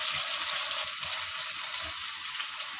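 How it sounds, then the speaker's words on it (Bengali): Silver carp pieces and potatoes frying together in a pan of hot oil, giving a steady, close, continuous sizzle and crackle with no talk. "আমি মাছ দুই পিসের সঙ্গে আলুগুলো সুন্দর করে ভেজে নিব।"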